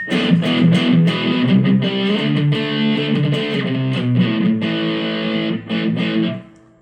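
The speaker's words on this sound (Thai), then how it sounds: "อย่างเช่นตัวนี้ครับที่ผมชอบเลยเสียงแตกนะ" A thick, distorted electric guitar played through a Line 6 POD 2.0 amp modeler plays sustained chords and riffs, loud and steady, then cuts off abruptly at the end.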